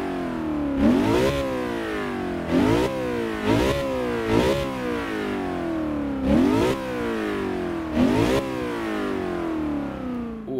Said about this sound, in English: let's hear how the big old jammin' V8 sounds